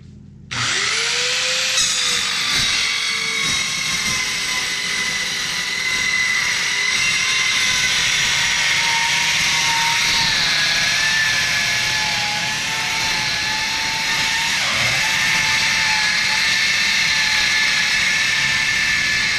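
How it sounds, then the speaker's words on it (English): An Eastwood Mini Metal saw cuts steel floor plate for a 16 ft utility trailer, giving a loud, sustained high-pitched whine with steady grinding that holds for the whole stretch, one shift in pitch partway through, and no talk. "Real good little saw. Eastwood Mini Metal."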